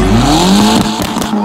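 A VW Golf MK2 quattro launches in a drag race against a 2.0 turbo car, its engine roaring loud and near with a rising tone and a brief tire squeal, while a voice speaks briefly over it.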